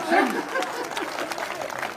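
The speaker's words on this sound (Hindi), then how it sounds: "ताली बजाओ यार" Scattered audience clapping at a Hindi kavi sammelan poetry gathering, a brief uneven patter of hands at moderate distance, mixed with crowd chatter and voices.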